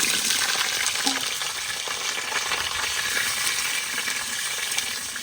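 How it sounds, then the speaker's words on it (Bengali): Potatoes frying in hot mustard oil in a wok, a loud continuous close sizzle with faint crackles throughout. "তেল গরম করেছি, এবার আলু দিয়ে দেবো।"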